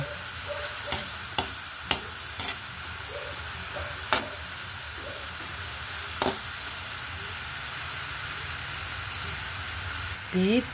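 Chicken sautés in a hot pan with a constant soft sizzle, punctuated by a few sharp clinks and scrapes of a utensil stirring against the pan.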